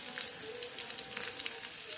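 Onion, garlic, green chili and curry leaves sauté in hot oil in a pan for a simple Konkan home meal, giving a steady, close, bright sizzle with faint stirring scrapes and no talking.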